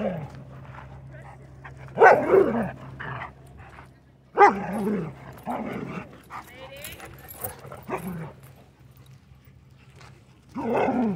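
Several dogs at a dog park barking, yipping and whimpering in scattered loud bursts, with a person talking and calling out commands between and over the barks.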